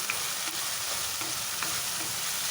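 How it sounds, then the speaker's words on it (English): Tomatoes with salt frying in a pan for mutton keema, a steady close sizzle with a spoon stirring through it in a few soft scrapes. "Stir this well,"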